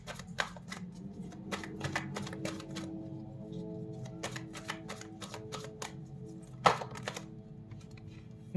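Tarot cards are shuffled close up in quick riffling bursts and soft slaps, with an occasional sharper knock and no talk.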